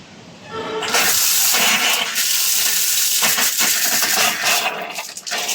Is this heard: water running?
yes